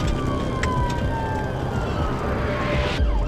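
An ambulance siren wails loud and steady as the vehicle arrives at an emergency scene, its tone sweeping continuously over heavy road and engine rumble.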